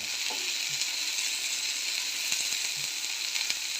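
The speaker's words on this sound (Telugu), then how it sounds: "ఎట్లా మనం ఫిష్ రోస్ట్ వేసుకుంటామో అలా రోస్ట్ చేసుకోవాలి" Food roasts in plenty of oil in a pan, fish-roast style, with a steady, dense sizzle and crackle that runs throughout at an even level, plus a few faint clicks.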